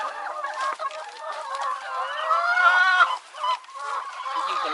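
Chickens clucking and cackling steadily while feeding on fresh kale, a close, continuous stream of hen calls with one louder rising squawk partway through.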